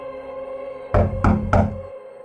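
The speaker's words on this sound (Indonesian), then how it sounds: "suara ketukan pintu" Three firm, evenly spaced knocks on a wooden door, loud and close, set over a low sustained ambient drone as a sound effect in a horror story.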